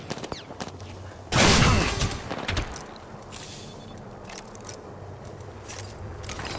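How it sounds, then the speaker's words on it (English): Gunfire aimed at the player in Apex Legends, a sudden loud burst of rapid shots with impacts, then scattered quieter pops, clicks and scrapes of game activity. "Being shot at."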